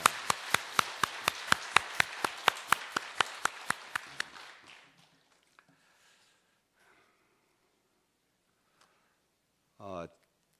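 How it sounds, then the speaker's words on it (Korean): A congregation at a church service claps to welcome a new evangelist: a run of about a dozen sharp, fairly even claps over four seconds that fade out, followed by near silence with a brief voice near the end. "박수로 환영하겠습니다"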